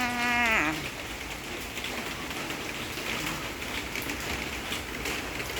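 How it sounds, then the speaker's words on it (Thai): Steady rain falling and pattering on surfaces, a continuous even hiss, after a brief whistling or ringing tone at the start. "มาดูฝนฝนตกจ้า"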